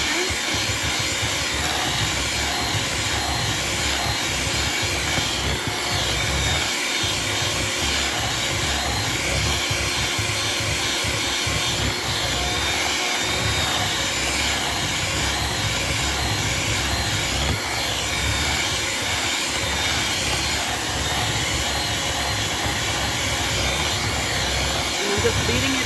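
An electric mixer whirs steadily and loudly as it beats whipped shea butter to a buttercream-like texture, a constant motor drone with a hissing, airy quality.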